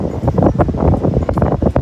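Strong wind buffeting the microphone in a loud, continuous roar at Kundasang, Kota Kinabalu, Malaysia, with a voice partly audible underneath.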